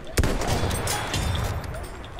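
A single sharp rifle shot cracks at the start amid the constant rumbling din of a Battlefield 1 video game battle, with no further distinct shots.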